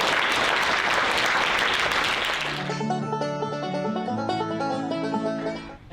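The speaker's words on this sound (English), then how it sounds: "let's give a round of applause to Daniel Thompson" Applause at a western awards show for a bootmaker, clapping steady for almost three seconds before giving way to music.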